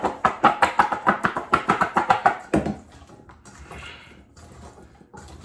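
Sweet potato fries being tossed with seasoning, a quick steady run of rhythmic shaking thuds for about two and a half seconds, then softer scattered rustling and clatter.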